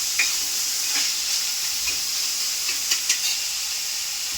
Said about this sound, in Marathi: लाल होईपर्यंत भाजून घ्यायची कांदा आणि मिरची.